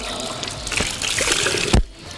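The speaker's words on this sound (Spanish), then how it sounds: "la mojamos bajo el grifo o en un cubo con agua" Tap water runs and trickles as a kitchen cleaning cloth is wetted under a faucet, a close, steady splashing stream that ends with a brief splat as the flow stops.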